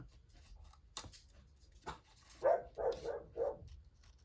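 A dog barks four times in quick succession at a moderate distance, following a few soft knocks and rustles.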